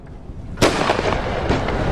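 Cannon artillery fire in the battle game Empire: Total War, American Civil War setting, a loud booming shot followed by a second blast and rumbling, crackling reports.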